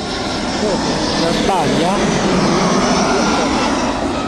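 An Airbus A320 with CFM56 engines landing at Rome Fiumicino gives a broad, loud jet roar with a whining sweep in the middle, while someone talks over it.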